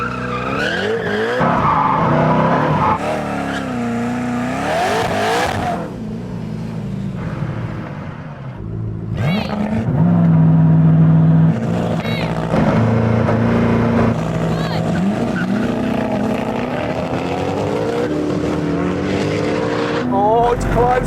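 Koenigsegg Regera racing rival cars, loud engine roar and tires scrabbling for grip with brief squeals, under excited talk.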